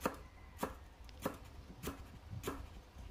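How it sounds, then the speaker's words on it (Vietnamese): A knife chops crushed lemongrass on a cutting board for a braised pork and straw mushroom dish, with five evenly spaced, crisp chops about every half second, close and clear. "băm cho xả nó hơi nhuyễn nhuyễn ra là được rồi"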